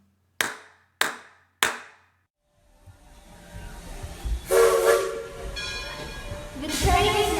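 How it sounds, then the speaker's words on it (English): Three sharp claps ring out, then a departing-train sound effect rises with chugging steam hiss and whistle-like tones, growing louder and rumbling as it pulls away. "The train is now leaving the Interpretation Station"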